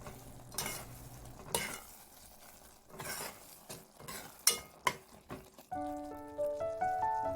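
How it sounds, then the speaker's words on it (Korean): A spoon stirs a simmering river snail side dish seasoned with pepper in a pot, scraping and clinking in a few close, uneven strokes over a soft sizzle, before light music comes in at the end. "골고루 섞어줍니다."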